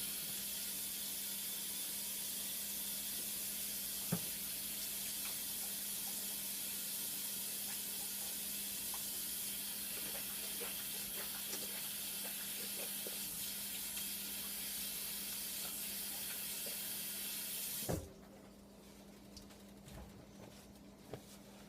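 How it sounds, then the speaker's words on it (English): Tap water runs steadily into a kitchen sink as hands are washed, a constant close hiss and splatter that stops abruptly near the end, leaving quiet room tone with a faint clunk. "I am going to wash my hands here."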